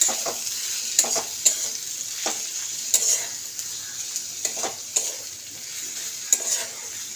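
Onion masala with cumin powder sautéing for a fish curry, a steady close sizzle broken by repeated sharp scrapes and clicks of a spatula stirring against the pan.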